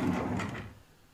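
A kitchen drawer holding cutlery slides open or shut in a holiday-let kitchen, one soft rumbling scrape that quickly fades away.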